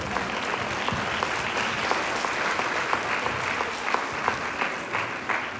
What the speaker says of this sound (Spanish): Que se escuche fuerte el aplauso